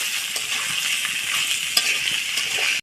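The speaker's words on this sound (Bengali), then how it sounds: "দিয়ে দিলাম টমেটো কুচি, দিয়ে দেবো আলু, টমেটো আলু একটু সুন্দর করে ভেজে নেব।" Chopped tomato and potato frying in a pan for a jatka fish chorchori, a loud, steady sizzle with brief stirring clinks, close up and without any talk.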